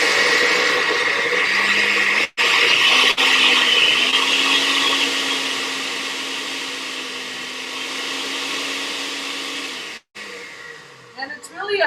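A kitchen blender pulses a hot broccoli and kale soup, whirring steadily at close range, with abrupt stops where the pulses cut off and a brief clatter at the end.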